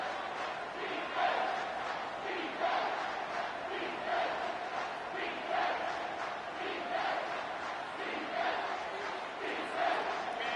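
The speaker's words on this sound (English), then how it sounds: "The crowd elevating its energy, willing this defense to get a stop on this big 3rd down." Stadium crowd noise from a college football video game against NC State, a steady loud roar swelling in waves on a big third down, continuous throughout with no talk.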